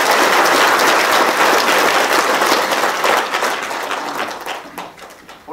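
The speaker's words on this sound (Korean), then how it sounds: "박수 한번 보내주시면 됩니다" Sustained, loud applause from a rally audience at a North Korea–related political gathering, dense clapping that starts at full strength and slowly thins and fades over several seconds.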